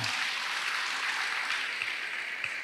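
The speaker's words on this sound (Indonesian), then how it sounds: "Yang mau tepuk tangan buat Tuhan." A church congregation clapping their hands for God during a Christian sermon service, a steady, even wash of applause at moderate level, continuing throughout without pause or talk.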